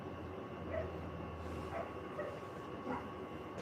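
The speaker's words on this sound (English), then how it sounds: "The puppies are out there barking." Distant barking from a few puppies comes in scattered bursts over a steady outdoor hum.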